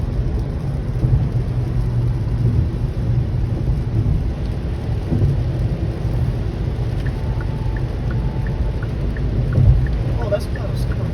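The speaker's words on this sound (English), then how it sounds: "That's rain." Steady rain drums across the full stretch with a deep low rumble of thunder underneath, loud and close, with a brief swell near the end and faint voices in the background.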